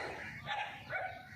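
Dogs barking at birds, two short barks in quick succession at moderate distance over a dull background.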